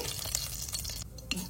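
Mustard seeds and cumin crackle and splutter in a spoonful or two of hot oil in a pan, a dense close-up fizz with scattered sharp pops and no voices.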